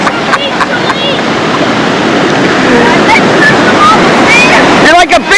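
Surf washing onto a beach under steady wind buffeting the microphone, a continuous broadband rush with people talking over it and a louder gust near the end.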